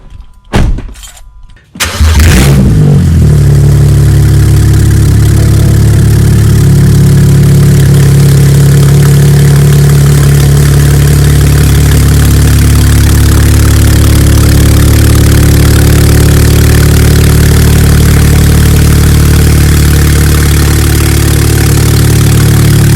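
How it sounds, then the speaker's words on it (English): A BMW 535 running with VRSF downpipes and no exhaust fitted, loud and close: a brief catch as it fires up, then a steady, raw, droning idle that holds for the rest of the time with no voices. "how 535 sounds without exhaust, with just VRSF downpipes"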